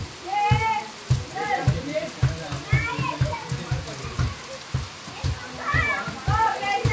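Steady patter of rain falling on surfaces in a Konkan village, heard under children's voices and chatter, with a few sharp knocks and thumps.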